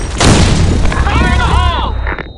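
A grenade blast in the online shooter BlackShot on a sandstorm-type map, a loud deep boom with a short rumbling tail, while a voice calls out over it.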